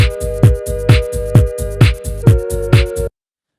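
A looped beatbox groove: a throat kick doubled by guitar-to-bass effect at around 50 drives a steady, punchy pulse with sustained tonal layers, loud and close, with no voices speaking.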